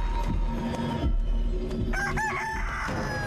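A giant rooster in the video game Chicken Feet crows loudly and nearby in a long, wavering cock-a-doodle-doo, with game background sounds around it.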